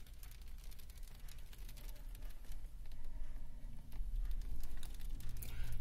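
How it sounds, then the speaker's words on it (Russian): Hail falls hard outside, a dense, continuous patter of many small ticks and taps heard from indoors, steady and moderately faint, swelling slightly in the second half. "что град идет довольно сильный"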